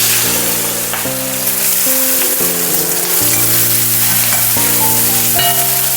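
Ginger, onion and green chili frying in coconut oil, a steady, loud sizzle with stirring, and a low electric hum that shifts pitch underneath.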